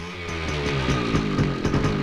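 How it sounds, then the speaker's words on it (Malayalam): Motorcycle engine running with a steady rough idle throb that rises slightly, close and fairly loud, with no one talking. "ബൈക്ക്."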